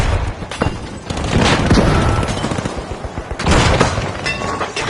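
A frag grenade detonating in the multiplayer shooter The Finals, with a loud booming blast and scattering debris amid continuous gunfire and chaotic battle noise, all filling the clip without pause.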